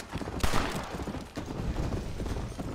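Gunfire in the Red Dead Redemption video game, a sharp loud shot early followed by a dense rumbling flurry of hoofbeats and noise, with another burst partway through, no talking.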